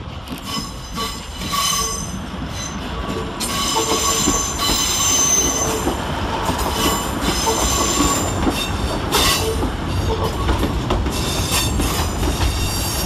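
Class 156 ScotRail diesel units at Glasgow Central station, arriving on a service from Kilmarnock, with steady rumble, wheel squeal and rhythmic clatter on the rails, close and loud throughout without talk.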